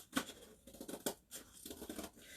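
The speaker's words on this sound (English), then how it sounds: "The smaller pieces are a lot easier to cut out with scissors." Scissors snip through cardboard in a series of close, crisp cuts with short pauses between strokes, no voices present.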